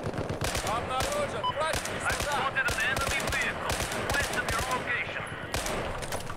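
Rapid automatic rifle fire in Battlefield 4, dense bursts of shots crackling continuously and loudly, some near and some farther off, with a player talking over the gunfire.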